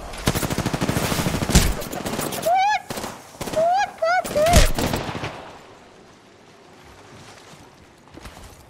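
Rapid video game gunfire bursts loudly in dense automatic volleys for about five seconds, with short voice-like whoops layered in, then fades to a quieter rumble with a few faint later pops.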